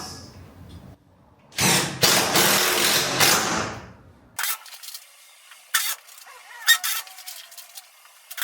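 A power drill drives screws into metal brace brackets in a workshop, a dense two-second whirring burst followed by several short, sharp bursts with pauses between them, fairly close.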